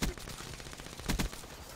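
Black Ops 3 gunfire in short, close, rapid-fire bursts, with a loud opening shot and a cluster of shots about a second later, without talk.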